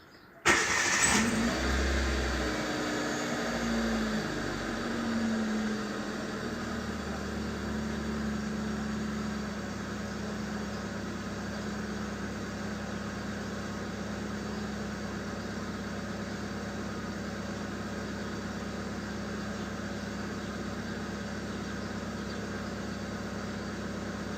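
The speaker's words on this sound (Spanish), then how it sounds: "vamos a arrancar el auto" A car engine cranks and starts with a loud burst, then settles into a steady, even idle that runs on alone for about twenty seconds, during an oxygen sensor check with a scanner.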